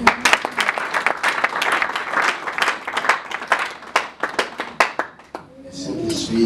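Church congregation applauding and clapping together during a French-language worship service, a loud, fast flurry of claps from a nearby crowd that tapers off, with voices rising at the end.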